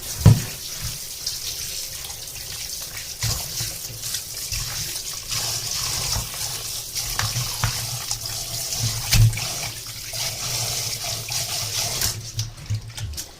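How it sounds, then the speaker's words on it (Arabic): Rabbit pieces, cut into six portions, rinsed under a running kitchen tap, a steady splashing water stream in a sink with small bumps and clatters as the meat is handled, close and alone throughout. "هغسل بقى الارنب بتاعي كويس قوي."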